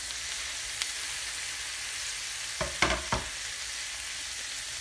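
A pan of mixed vegetables sautés with a constant soft hiss, and a short cluster of three or four stirring scrapes comes near the middle. The sound is close and steady, with no speech.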